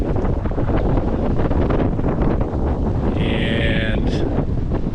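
Strong wind buffets a sailboat on open water, a steady loud roar across the whole stretch, with a brief higher whistling tone near the end.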